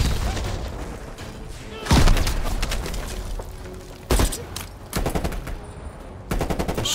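Shotgun blasts in Call of Duty Black Ops Cold War, heavy booming shots at irregular intervals against a steady backdrop of game gunfire and ambience, with no talking.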